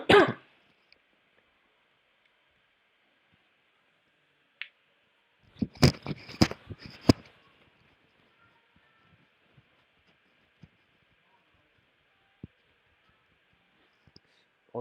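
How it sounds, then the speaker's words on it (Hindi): A cluster of harsh, heavy coughs and throat clearing bursts out close by after a short earlier cough, then quiet with scattered faint clicks. "बहुत तगड़ा खांसी हो रहा है"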